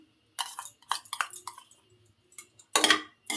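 A metal cooking pot is picked up and set down to heat oil for tempering jackfruit seed curry, giving several sharp clinks and knocks in short bursts, with the loudest clatter near the end.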